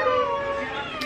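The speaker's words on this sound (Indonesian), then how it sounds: "itu ada meong-meong yang mengincar ikan asin." A single short cat meow, fairly faint, with a thin drawn-out tone.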